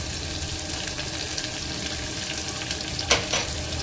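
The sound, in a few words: onion, garlic, cumin and curry leaves frying in a pan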